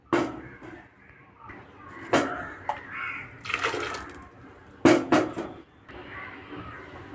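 Ground coconut paste is poured into a clay pot for a sardine curry soured with bilimbi: close, wet splashing and sloshing bursts with short pauses, each pour louder at the start and then trailing off.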